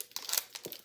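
A pack of 2020-21 Upper Deck Series 1 hockey cards is torn open with a few quick crinkly rips and crackles of foil wrapper, close and short.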